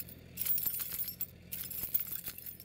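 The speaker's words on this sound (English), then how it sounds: "You hear those keys?" A ring of keys jangles close by in a home, giving repeated bright metallic clinks and rattles in short bursts with no talking.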